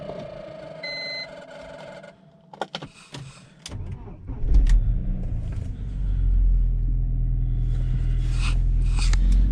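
A BMW E46 Touring engine cranks and catches, then settles into a steady low running rumble with some clicks and whirs beforehand.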